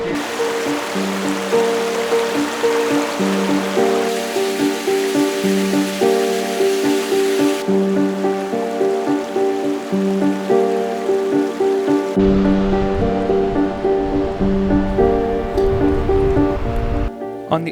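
A vivid blue stream rushes through the Alpine Leutasch Gorge near Mittenwald, giving a steady broadband wash of flowing water with a faint tonal hum running underneath throughout.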